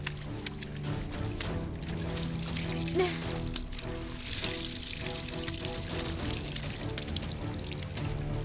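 Water runs from a pipe into a rice paddy as a soft, continuous pouring trickle, with faint voices and background music over it.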